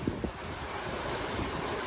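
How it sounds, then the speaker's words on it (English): Wind roaring over a sailboat at sea during a squall, with waves washing against the hull, a loud, constant rush of noise. "I think it's just a squall"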